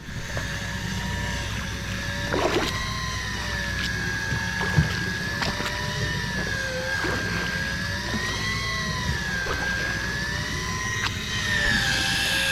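A motorboat running out to sea off the Bahamas, a loud steady engine drone with a rising and falling tone over wind and water rush, no talk.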